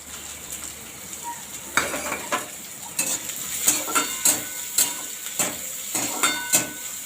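Chopped onion and garlic frying in oil, a soft continuous sizzle broken by repeated sharp scrapes and clinks of a spatula stirring the pan in an even rhythm.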